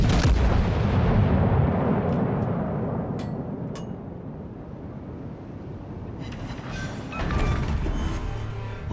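Naval artillery salvos boom from warship guns in World of Warships Legends, heavy rumbling blasts rolling into long echoing tails, with a fresh loud volley landing near the end.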